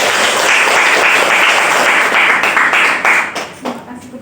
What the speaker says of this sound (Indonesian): Kita beri tepuk tangan sekali.